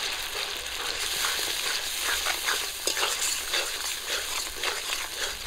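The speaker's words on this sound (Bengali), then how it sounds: "সব কিছু মশলা আমি ভালো করে ভেজে নিয়েছি" Spices with poppy seed paste, turmeric, chili powder and salt fry in oil for a pabda fish curry, giving a dense, continuous close-up sizzle with faint stirring scrapes and no talk.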